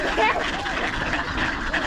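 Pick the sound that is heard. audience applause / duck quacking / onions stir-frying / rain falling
duck quacking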